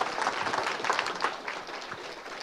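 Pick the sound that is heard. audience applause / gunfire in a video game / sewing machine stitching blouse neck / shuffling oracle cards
audience applause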